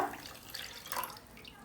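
Water pours from a cup into a small pan of sugar for making syrup, a short, soft splashing trickle close by, without speech.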